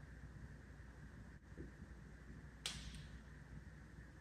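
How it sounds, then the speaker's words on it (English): Trees in extreme cold at 8 below zero giving off a sharp, isolated crack, one loud pop standing out above a low rumbling wind and outdoor background. "It's so cold, these trees are popping"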